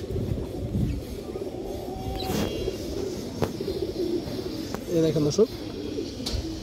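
Pigeons coo in soft, throaty bursts, with a clearer run of coos near the end, from a mated pair of pallah or high-flyer pigeons. Someone talks over much of it against steady background noise.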